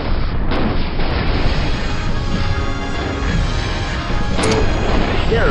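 A mech blows up in the video game MechCommander Gold, a continuous loud, rumbling explosion roar with battle noise lasting several seconds, and no voices.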